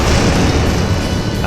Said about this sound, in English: The weapon fires, blasting the suit down.